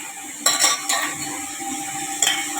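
Tomatoes and dried fish sautéing in a pan, with a few sharp clinks of a metal spoon against the pan over a low, steady background sizzle.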